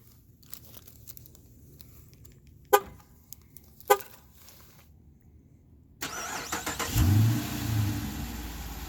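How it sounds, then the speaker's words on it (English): A 2016 Dodge Charger R/T with stock exhaust is started remotely: quiet clicks and a couple of sharp chirps, then the engine cranks, catches with a loud flare and settles into a deep, steady idle nearby. "give it a little start. It does have remote start on it."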